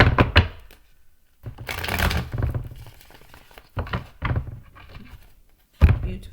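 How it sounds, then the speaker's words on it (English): Tarot cards being shuffled up close: riffling and flicking bursts with soft taps between them, several separate shuffles. "One more good shuffle."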